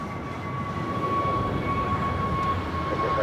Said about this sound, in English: This is Frontier flight 4964 headed to Dallas on an Airbus A320.